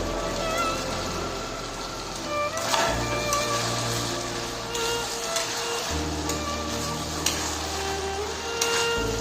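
Fried chicken pieces tossed into a pan of sauce for chili chicken, a steady sizzle with scraping stirs and occasional clinks, close and fairly loud, no talking.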